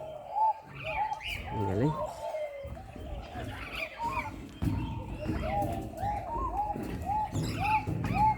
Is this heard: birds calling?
yes